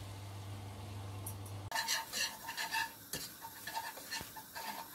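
A wire whisk stirs flour and butter in a pot over low heat for an Arab soup base, scraping and clinking in quick irregular strokes with a soft sizzle, close and fairly loud after a brief steady hum.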